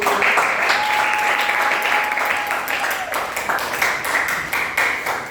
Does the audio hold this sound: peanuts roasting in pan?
no